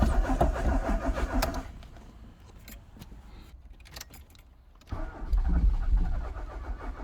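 A Rover 820 engine cranking over and nearly catching on old fuel, bursts of starter churning with a pause of near quiet between them, close by and fairly loud.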